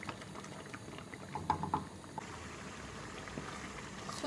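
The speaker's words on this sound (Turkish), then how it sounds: "Sadece domatesimiz ve sarımsağımız pişiyor şu anda." Tomato and garlic sauce simmering in a pan, a quiet, continuous low bubbling and faint popping heard up close and alone.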